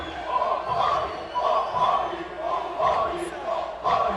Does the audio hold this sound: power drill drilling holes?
no